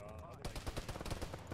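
Automatic rifle fire in the military video game Arma, a rapid string of sharp shots after a short lead-in, close and loud, lasting under two seconds.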